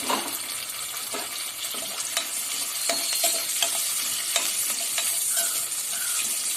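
Chopped onions frying in a pan sizzle steadily up close, with repeated scraping and stirring strokes against the pan over the constant hiss.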